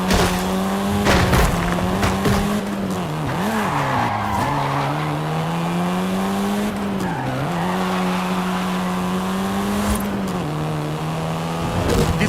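Volkswagen Golf R, seventh generation, driven in Forza Horizon 5: a loud, continuous engine drone with steady harmonics, dipping and rising through gear changes and throttle lifts, with tire squeal and skidding mixed in throughout the twelve seconds.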